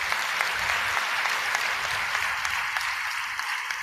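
Audience applause at a religious gathering, a dense continuous crowd clapping that stays loud and even throughout, with no speech over it.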